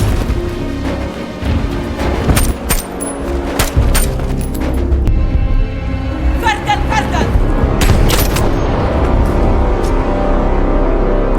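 Repeated sharp gunshots and booms from a film crack out irregularly over a dense, loud action soundtrack, some shots closely spaced in bursts.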